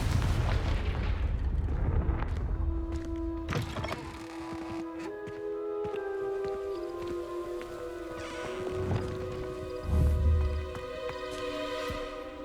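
Confringo fire spell cast in Hogwarts Legacy, several sharp blasts and booming bursts scattered over a sustained magical hum, with no talk over it.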